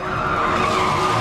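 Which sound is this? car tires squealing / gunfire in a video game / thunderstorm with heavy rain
car tires squealing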